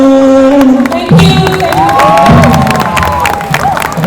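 A festival stage audience at Nilotsav 2022 cheering and clapping loudly after a song, with crowd shouts and whoops over sustained tonal music or voices, close and dense throughout.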